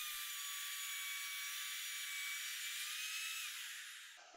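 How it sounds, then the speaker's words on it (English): A router cutting a dado in plywood as it runs along a clamped guide gives a steady, loud high-pitched whine that holds for about four seconds, then winds down toward the end. "Now I can fire up the router and run it against the guide."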